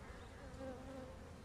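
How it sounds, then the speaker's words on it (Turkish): Forager honeybees buzz faintly as they arrive at a white hive entrance, a soft layered hum with a brief clearer drone in the middle. "Tarlacı arı geldiği zaman bakın aşağı tarafta geliyor."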